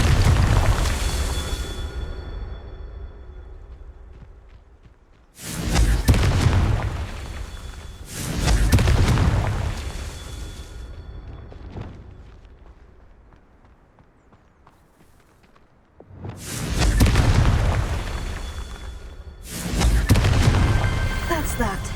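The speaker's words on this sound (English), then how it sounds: "Confringo." In the Hogwarts Legacy video game on PS5, Confringo fire spells burst in several loud, booming blasts with decaying rumbling tails, separated by quieter stretches of footsteps and ambient game sound.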